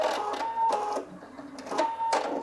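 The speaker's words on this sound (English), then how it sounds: "let's see if it trims the thread this time" A Singer EM9305 embroidery sewing machine running a short stitching and thread-trimming cycle, giving close mechanical whirring and clicking in a few distinct bursts with brief pauses between, moderately loud and free of talk.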